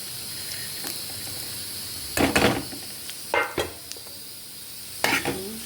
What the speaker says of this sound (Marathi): आपला खोबरं आणि कांदा त्या तेलामध्ये परतायचं